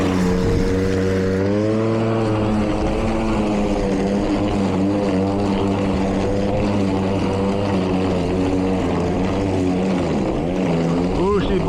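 Milwaukee 2823-22HD electric lawn mower pushing through super long grass, a loud steady motor whine that wavers in pitch as the blade bogs down under load, continuous and close throughout.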